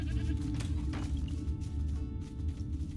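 A goat bleats in the farming survival video game Mr. Prepper. Several bleats come over a dense, loud low game background.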